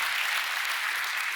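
Audience applause at a panel discussion on technology and democracy movements, a steady wash of hand clapping from a crowd that holds at an even level throughout.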